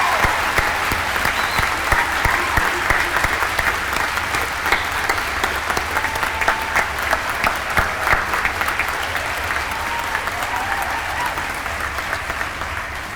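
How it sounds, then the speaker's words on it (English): A graduation ceremony audience applauds steadily for about thirteen seconds, a dense sustained wash of many hands clapping from a large crowd, with no talk over it. "I'm sure the graduates would like to show their appreciation with a round of applause for their loved ones."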